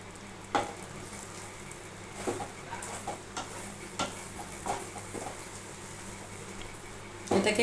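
Modak filling being stirred in a pan over a gas flame, a soft, low sizzle broken by scattered scrapes and clinks of the spoon against the pan, fairly quiet and close, with no voices.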